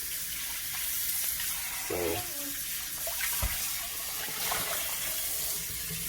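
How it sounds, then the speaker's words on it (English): Water runs from a kitchen tap while a cooking pot is rinsed out. The steady hiss and splash of the flow is broken by clunks of the pot, with a brief word of talk. "I rinse it out."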